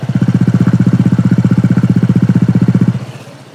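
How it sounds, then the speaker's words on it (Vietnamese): Honda SH 160i 2024 scooter engine running close by, a loud, rapid, even putter of pulsing exhaust beats that holds steady before suddenly dropping away near the end. "chiếc Honda SH 160i bản mới nhất này nó đang nổ máy"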